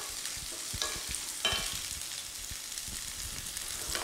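Chopped carrot stir-frying in a pan gives a steady low sizzle, broken by scattered taps and scrapes of stirring, quiet and close, with no voices.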